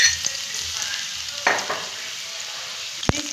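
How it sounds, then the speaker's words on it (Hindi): Garlic frying in oil in a pan, a continuous hissing sizzle with a few scraping stirs and a sharp clink near the end, no voices. "ये लहसुन इसके अंदर फ्राई करके"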